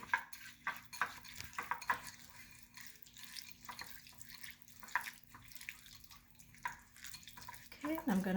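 Melted chocolate brownie mixture sprinkled with instant coffee is stirred in a bowl, giving soft, faint scraping and sloshing strokes that repeat steadily throughout.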